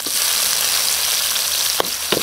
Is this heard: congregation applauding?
no